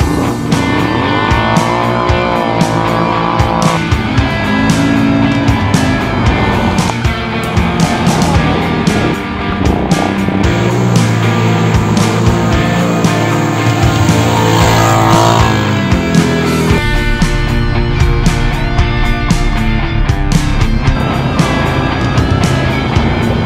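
ATV quad bikes revving on an off-road expedition, engines droning loudly and continuously with pitch rising and falling as the throttle is worked, filling the whole stretch without pause.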